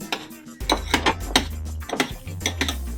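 A spoon stirring vegan lasagna filling seasoned with cumin and turmeric, scraping and clinking against a bowl in quick repeated strokes, close and clear.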